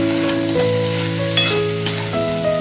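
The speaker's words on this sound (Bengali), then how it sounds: "সব কিছুকে আমি ভালোভাবে মিশিয়ে নিচ্ছি।" Ridge gourd and ground spices fry in a pan while being stirred, a close, steady sizzle broken by a few sharp scraping strokes of the spoon.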